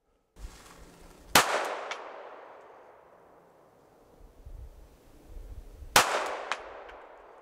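Two sharp handgun shots fired at a target through a Romeo sight, loud and close, each followed by a long echoing decay across an open range, a few seconds apart with faint clatter in between.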